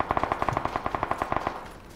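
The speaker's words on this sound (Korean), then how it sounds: "총소리 무서워" A rapid burst of machine gun fire in the video game Battlegrounds, evenly spaced shots rattling off for about a second and a half before trailing away, no voices.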